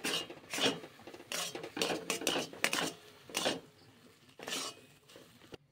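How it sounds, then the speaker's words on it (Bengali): A spoon scrapes and stirs rice flour and semolina dough for dudh puli in a pan, making a series of irregular scraping strokes of moderate loudness that stop and start, with no talking. "আবার চালের গুঁড়ি দেব, আবার সুজি দেব, দিয়ে এইভাবে নাড়তে থাকবো।"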